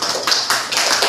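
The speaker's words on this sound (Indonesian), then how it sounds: "Beri aplaus dong untuk temannya." Students in a classroom clap for a classmate in a short, loud burst of close applause with clear repeated claps.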